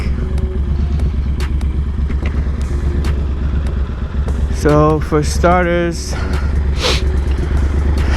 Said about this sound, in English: let's start with the exhaust, since I already got it running.